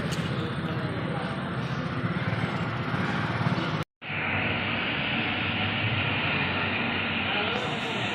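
At Lonavala railway station, a train rumbles with a dense, steady roar that cuts out briefly for a moment, then resumes just as loud, with people talking faintly amid the noise.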